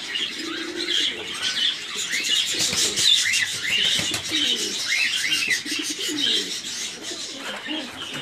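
Young double-crested Turkish pigeons coo softly and continuously at close range, with wing flutters and a busy loft hum underneath.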